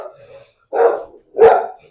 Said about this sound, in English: You can't ever tell what she's barking at.